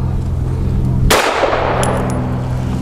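A single sharp pistol shot from a BUL Armory Axe C, a close, loud crack with a short ringing decay over steady background noise, no talk.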